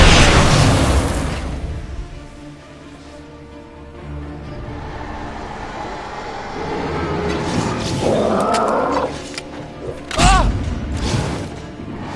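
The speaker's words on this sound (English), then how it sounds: "Flare gun." Flare gun fired in the video game Alan Wake, a heavy boom followed by rumbling bursts and pops amid game sounds, with a voice talking over parts of it.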